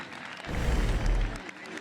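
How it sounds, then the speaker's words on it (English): High school football fans in the stands at Lee's Summit North versus Blue Springs South give a brief round of applause, distant and muffled, rising for about a second under a low rumble before fading. "as the fans give him a nice round of applause"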